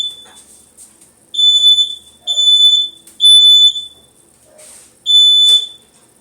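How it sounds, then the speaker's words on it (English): A household smoke alarm goes off in four loud, piercing electronic beeps, each lasting about half a second, separated by short gaps with faint room noise between them. "So I just ran and stopped the alarm."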